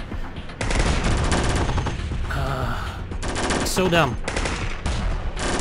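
Sustained machine-gun fire from the video game Warfare Reloaded, a loud dense rattle of rapid bursts running nearly throughout, with short gaps, while someone speaks briefly over it.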